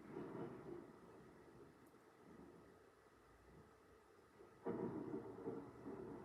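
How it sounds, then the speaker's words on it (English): Steady rain falls outside with a low rumble of thunder, a heavier wash of rain swelling up partway through, heard alone without voices. "It's just raining outside now."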